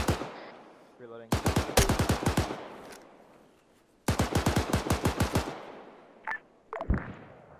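Rapid bursts of automatic gunfire laying down suppressing fire in ArmA 3, two long rattling strings of loud close shots separated by a pause, with a few single shots and a brief voice toward the end.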